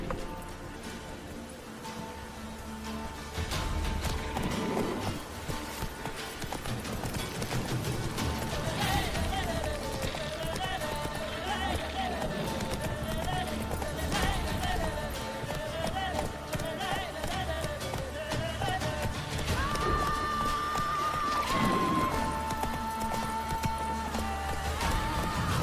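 Roach, a horse, gallops through The Witcher 3 with a steady clip-clop of hooves under constant game music, which carries a wavering melodic line throughout.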